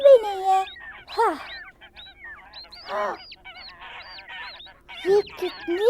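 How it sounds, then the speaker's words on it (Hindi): A cartoon duck gives a string of honking, nasal quacks, loud bursts at the start and end with softer chatter-like calls between, alone without talk. "ये कितनी प्यारी बत्तख है।"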